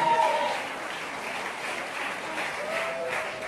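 A crowd claps together at a French-speaking gathering, a fairly loud, dense burst of applause that holds steady for a few seconds without voices on top.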